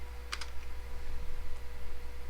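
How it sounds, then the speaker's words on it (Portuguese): A computer keyboard pressed as Ctrl, Shift and Enter, two or three quick clicks early on, then a faint later tap over a steady electrical hum. "Primeiro Ctrl, depois Shift ao mesmo tempo e você tecla Enter."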